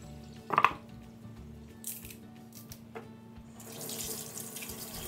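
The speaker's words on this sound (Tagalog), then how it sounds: "Hugasan po natin lahat ng ating ingredients at make sure po natin na malinis po siya" Tap water runs over juice ingredients in a sink, a steady close hiss that rises to a fuller gush near the end, with a few brief clunks and splashes early on.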